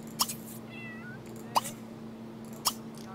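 Cat in The Sims 3 video game, three short sharp meows evenly spaced over a quiet steady game hum, with a faint chirping sound between the first two.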